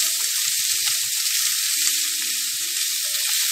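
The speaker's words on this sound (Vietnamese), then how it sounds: "Mình sẽ bắt đầu mình thắng mỡ, mình thắng cái tép mỡ của mình nè." Pieces of pork fat render in a hot pan, a dense, steady, crackling sizzle with occasional pops, loud and close, with no voices over it.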